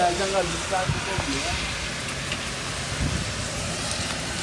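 Heavy rain falls in a steady broadband hiss, with voices talking over it and passing traffic noise in the background.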